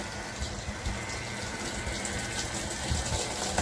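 Water runs steadily from a garden water butt into a watering can at an allotment, a continuous close gushing splash with no talk over it.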